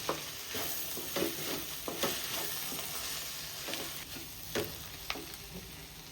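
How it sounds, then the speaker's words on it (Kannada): Saagu masala fries in a pan while a spoon stirs it repeatedly, a steady close sizzle broken by regular scraping knocks. "ಫ್ರೈ ಮಾಡ್ಕೊಳ್ಳಿ ಚೆನ್ನಾಗಿ."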